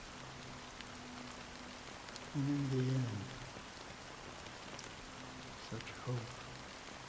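Steady rain falling in Honkai: Star Rail, a constant dense hiss filling the background while someone speaks briefly over it.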